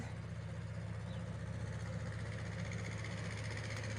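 A tractor ploughs a garden plot, its engine a steady low drone running throughout at moderate distance and fairly quiet, with no speech.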